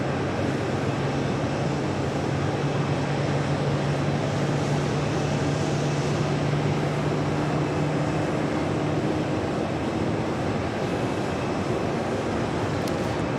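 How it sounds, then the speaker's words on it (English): A Delta Airbus A330-300 airliner arriving at JFK from Rome rumbles steadily at a distance, a broad continuous roar with a low droning hum that holds throughout without speech. "This was the Delta flight coming in from Rome, flight 231 on this A330-300."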